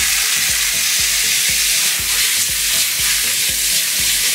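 Tomatoes fry in a pan for shakshuka with a loud, bright, continuous sizzle, under a steady rhythmic low thumping.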